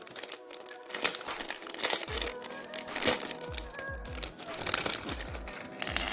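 Crinkling and tearing of plastic and cardboard packaging as a Luke Skywalker action figure is unwrapped, a steady run of close rustles, crackles and rips with soft thumps throughout.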